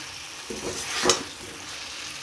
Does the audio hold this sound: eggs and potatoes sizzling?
yes